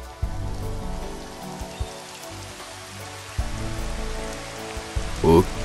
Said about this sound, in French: avec la pluie qui tombe dans l'eau, avec les petites éclaboussures et tout